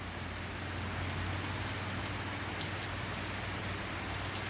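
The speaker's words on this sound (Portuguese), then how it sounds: "Chuva agora, nesse exato momento, sul da Bahia aqui" Steady rain falls near Camacã in southern Bahia, a dense continuous hiss of drops on surfaces with a low rumble underneath, constant in level throughout and with no voices.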